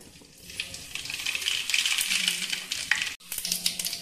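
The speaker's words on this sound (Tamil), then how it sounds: "நம்ம இப்போ கடுகு சேர்த்துக்கலாம்." Mustard seeds are dropped into hot oil in a pan while semiya upma is being made, giving a bright crackling sizzle that swells, cuts off briefly near the end, then resumes close by.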